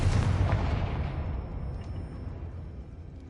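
A Confringo blasting spell explodes in the video game Hogwarts Legacy, a loud booming burst that rolls out and decays over a few seconds, with no talking.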